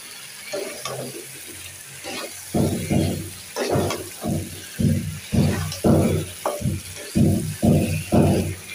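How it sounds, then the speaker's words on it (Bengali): Taro curry is sautéed in a pan. A spoon scrapes and stirs in a steady rhythm, with a loud stroke roughly every half second over a low background sizzle and no speech. "এই দেখো তরকারিটা সুন্দর করে কষিয়ে নিচ্ছি।"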